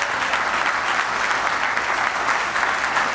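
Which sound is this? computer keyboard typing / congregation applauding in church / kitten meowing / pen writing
congregation applauding in church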